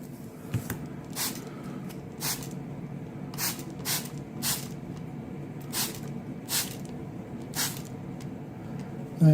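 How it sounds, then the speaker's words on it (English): A water spray bottle mists a model M48A3 Patton tank diorama in a series of about ten short, sharp hissing bursts at irregular intervals, close by, with a quiet background between them. "So I'm going to spray it down here with the water."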